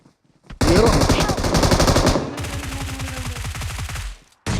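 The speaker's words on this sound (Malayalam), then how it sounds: "ഇത് എവിടുന്നാ അടിക്കുന്നവൻ? ഏത് ഏത് ഏത് തോക്ക് വെച്ച് അടിക്കുന്നവൻ?" Automatic weapons fire in a video game comes in loud, rapid bursts, one long run of shots followed by another after a short pause.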